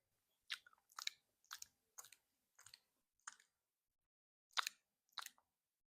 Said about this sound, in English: I hate listening to speakers with dry mouth.